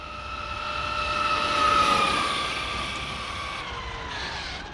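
Traxxas XRT 8S electric RC truck running at full throttle with 23/46 speed gears on asphalt, a steady high-pitched motor whine that swells as it nears and then fades, alone with no talk.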